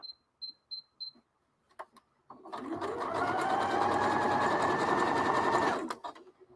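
Sewing machine stitching, a few brief clicks and taps first, then a steady close whirring run of about three seconds that stops abruptly, followed by faint handling sounds.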